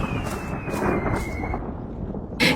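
Steady, heavy rain pours over a poor fishing family's leaky hut while low thunder rumbles continuously, ending in a sharper crack at the close, with no voices.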